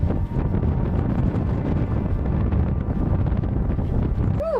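Strong wind at sea on a sailboat in the Bahamas, forecast around 20 knots gusting 33, roars constantly and loudly across the microphone as a dense, unbroken rush with no pauses and no voices.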